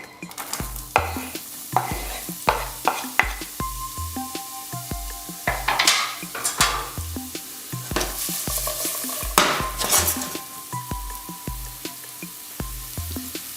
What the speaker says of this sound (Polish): odrobinkę oleju, na którym mam zamiar zeszklić pół dość sporej cebuli i trzy ząbki czosnku